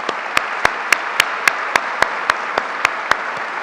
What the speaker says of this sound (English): let's give our governor a big round of applause for his investment in our city